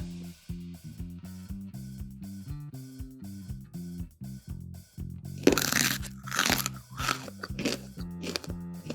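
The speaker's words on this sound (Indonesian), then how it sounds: "Jadi ini saking kerasnya dikunyahnya itu ngeri banget ya." Hard, crunchy keciput fried snack made with tapioca flour and baking soda being chewed close up, starting as steady rhythmic munching, then breaking into louder sharp crunches and cracks in the second half.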